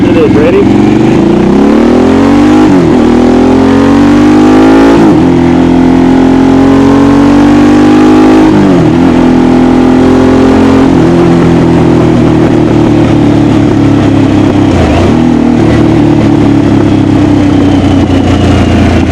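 Engine of a 2022 Harley-Davidson Sportster S motorcycle, loud and close, rising and falling through several hard revs with a rumbling idle between them, no talk over it.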